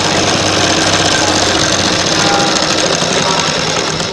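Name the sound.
sewing machine stitching a net slip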